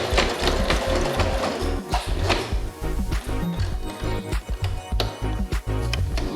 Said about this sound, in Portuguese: Como aqui está grosso o tecido, é legal, ó, ajudar a máquina de costura.